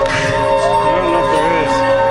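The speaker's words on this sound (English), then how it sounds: "couldn't hear the sound of the bell in my hat" Small bell ringing from inside a hat, a bright sustained tone with shimmering overtones, fairly loud, under a voice talking over it.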